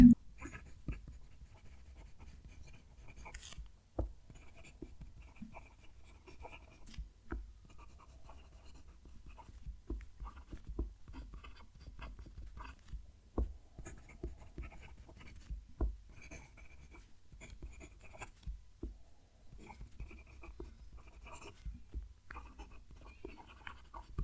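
A Delta Dune fountain pen nib writing on paper: a faint, soft, smooth scratching of strokes and letters, continuous with small taps as the nib lifts and lands, heard close up.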